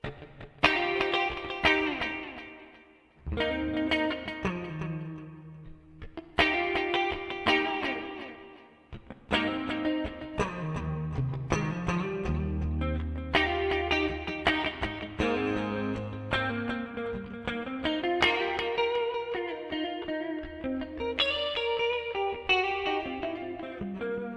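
Electric guitar played through an ART SGX 2000 preamp with a clean, ringing tone, chords and single notes sustaining with a shimmering effect, steady and up close with no voices.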